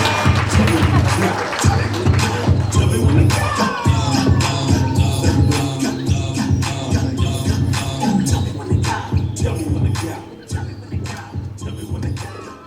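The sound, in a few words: audience applause welcoming a speaker at a boxing banquet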